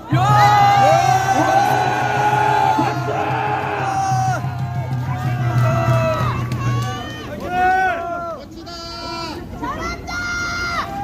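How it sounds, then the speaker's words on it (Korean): A crowd of students at a university rally in Busan cheers and whoops, loud and close, with shrill raised voices rising over one another and a low hum underneath, the noise surging and fading in waves. "큰 박수 부탁드립니다."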